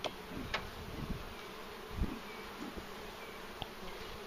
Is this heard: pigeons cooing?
no